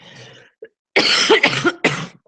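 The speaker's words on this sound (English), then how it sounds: "I am so sorry about the coughing again." A few harsh, close coughs in quick succession, two or three sharp bursts after a brief quiet moment.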